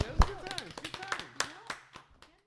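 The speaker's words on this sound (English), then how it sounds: "I'll clap that up." A few scattered hand claps from a small group wrapping up a craft beer podcast recorded at a charity event, sparse and uneven, mixed with murmured voices.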